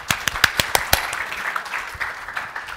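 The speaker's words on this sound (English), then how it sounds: "Give him a round of applause." Scattered hand claps from a conference talk audience, a sparse burst of distinct claps that thins out over under three seconds.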